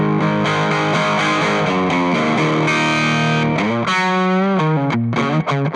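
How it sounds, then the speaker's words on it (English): Electric guitar through a cranked clean Victory Lunchbox amp, played as bright, percussive chords and ringing single notes with a spanky attack, loud and continuous with no talking. "It's got that spank and the percussiveness that is just so synonymous with a cranked clean amp"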